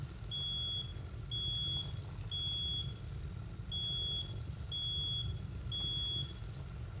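Smoke alarm going off in a burning house in the firefighting game Into the Flames: six shrill electronic beeps at a steady pace, each about half a second, over a constant low roar of fire and machinery.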